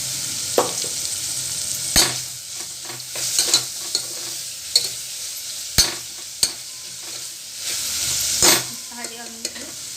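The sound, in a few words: onions frying in ghee, being stirred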